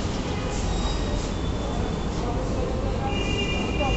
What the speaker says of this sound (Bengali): তো রেলটা মেবি আমাদের জন্য দাঁড়ায় আছে, অনেকেই রেলগাড়িতে চড়তেছে